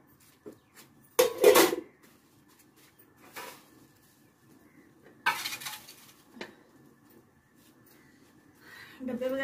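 Dishes, pots and utensils being washed by hand in a home kitchen, with scattered clinks, scrapes and splashing bursts separated by quieter gaps, fairly close and moderate in volume.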